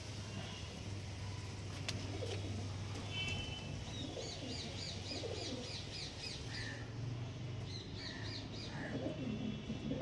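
Young long-beaked pigeons in an unfamiliar loft give soft cooing calls mixed with chirps and other bird calls, set against a steady low hum with no talking.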